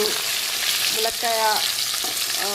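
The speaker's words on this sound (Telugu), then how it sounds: "ములక్కాయ ముక్కలు, కరివేపాకు, ఇంకా పచ్చిమిర్చి ఇవన్నీ వేసి బాగా వేగనిచ్చాను." Drumstick pieces, thick-cut onions, curry leaves and green chilies frying in a pan, a continuous close sizzle broken by a few scraping stirs, no voices.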